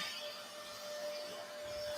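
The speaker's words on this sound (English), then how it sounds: "I have this mini vacuum in a bag" A mini handheld vacuum cleaner runs with a steady, hissing whine and a thin constant tone, close and continuous throughout, with no talk.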